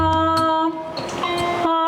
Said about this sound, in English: it takes a lot of practice to actually blow a shofar